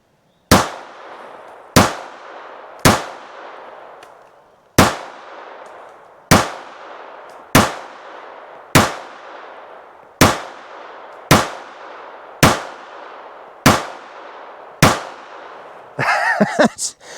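A Ruger LCP MAX, a lightweight compact pistol, fires about a dozen sharp, loud shots at a steady pace of roughly one per second, each followed by a short ringing decay, with a brief clatter of handling at the end.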